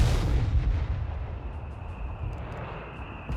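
Heavy artillery barrages in a Company of Heroes 3 battle between Wehrmacht and US forces, a dense rumbling roll of distant booms and blasts that opens loud and eases to a steady low thunder.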